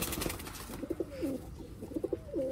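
Breeder pigeons cooing close by, two short bursts of soft throaty coos each ending in a rolling note, quiet and without speech.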